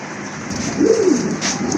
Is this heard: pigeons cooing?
yes